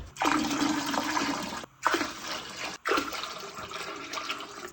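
Water from a one-litre jug pours into a toilet tank in three separate gushing bursts, each a loud, splashing stream with short silent gaps between pours.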